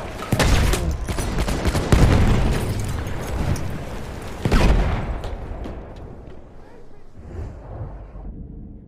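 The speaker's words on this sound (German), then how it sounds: "Ich werfe eine Granate!" A grenade explodes in Battlefield 1 amid a dense battle: heavy booms and rumbling blasts, with strong bursts near the start and middle, over continuous gunfire that fades toward the end. Voices are heard in the mix.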